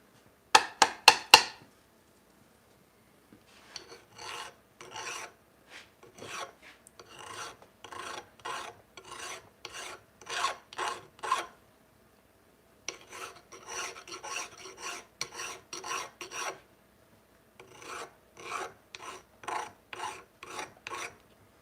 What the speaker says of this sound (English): I've been kind of gradually grinding this, like, because I'm trying to have a taper